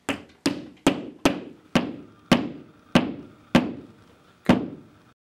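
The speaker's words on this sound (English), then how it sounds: "Then tap the supplied anchors into the holes drilled." Supplied wall anchors being tapped into drilled holes in a wall with a hammer: nine distinct close, sharp taps at irregular intervals, each with a short resonant thud.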